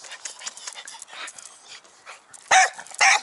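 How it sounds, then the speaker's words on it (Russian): A guard dog barks at a work site in South Korea, with a few soft yips and whimpers followed by two sharp, loud barks close by near the end. "Ну какой сторожевая собака"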